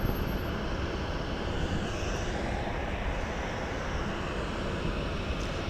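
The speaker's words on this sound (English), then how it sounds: "I think that was flight 1962 off to St. Louis" A Southwest airliner departs Dallas Love Field on a flight to St. Louis, a loud, steady broadband jet roar that holds without break throughout.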